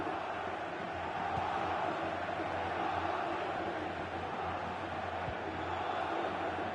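Stadium crowd noise from a FIFA football video game during a second-half attack, a constant dense roar of spectators that holds evenly throughout with low commentary beneath.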